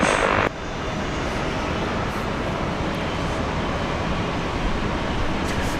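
An airliner taking off from runway 19 left at Brisbane International Airport during a severe storm, a dense, steady engine roar that fills the scene continuously after a brief louder burst at the start.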